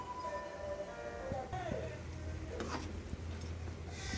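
Two packets of Maggi noodles are stirred in a pan, a steady sizzle with soft scraping and a few clinks of the utensil, close by. Faint voices murmur in the background.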